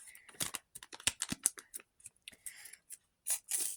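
A perforated paper package is torn open along its perforation, producing quick irregular crisp tears and crinkles, close and quiet, separated by short silences.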